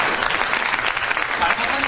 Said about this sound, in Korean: 우리 김영삼 전 대통령한테 박수 한번 쳐주십시오.